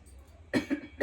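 Several harsh coughs from one person, close and loud, in two quick bursts and then a third about half a second later, over a quiet background hum.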